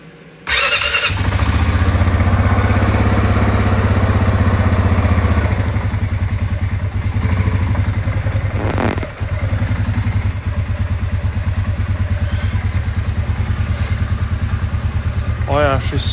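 Honda Foreman Rubicon 500 ATV, a 2001-2004 model fitted with a DIY snorkel, cranks and fires up, then settles into a steady loud idle close by, with a brief dip midway and a voice talking over it.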